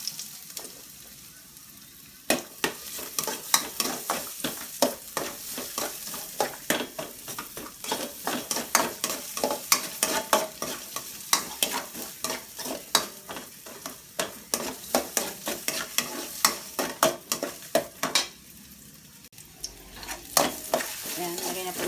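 Steady crackling sizzle of ginger frying in hot oil in a casserole pan, with repeated clicks and scrapes of stirring throughout.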